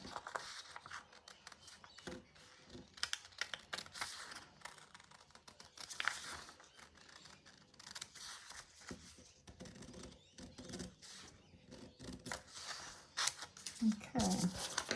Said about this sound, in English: this time I'm going to cut off the button band along my new line.